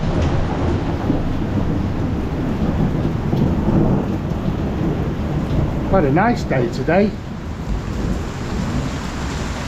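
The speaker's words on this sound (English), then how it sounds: "And now we've got a thunderstorm." A thunderstorm over an outdoor patio: heavy rain roars steadily with low rolling thunder underneath, loud and close, while a voice speaks briefly partway through.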